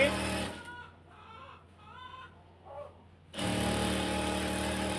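A sewing machine stitches a ribbon onto the neckline of a hijab, its steady mechanical whir running loud at the start and again continuously after a quieter stretch where a voice speaks.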